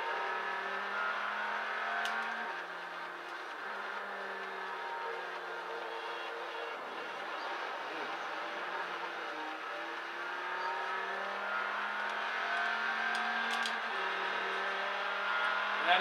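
A Range Rover races in Forza Motorsport 3, its engine a sustained mid-pitched drone with gentle rises and falls through the gears, steady and moderately loud throughout.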